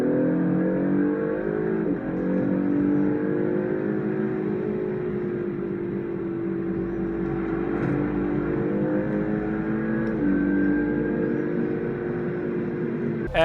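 A second-generation Honda NSX hybrid supercar engine drones steadily under load, a loud continuous tone that rises and falls in pitch as it pulls through gears, heard from inside the car.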